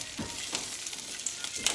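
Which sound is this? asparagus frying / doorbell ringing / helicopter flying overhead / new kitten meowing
asparagus frying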